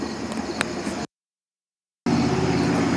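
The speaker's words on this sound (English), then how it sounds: "Here's another loud car." A loud car passes close to an intersection in a small American town, a steady near roar of engine and tyres that cuts off abruptly for a second of silence, then resumes just as loud.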